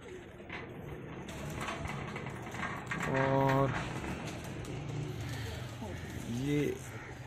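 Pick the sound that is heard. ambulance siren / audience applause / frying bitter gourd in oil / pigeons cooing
pigeons cooing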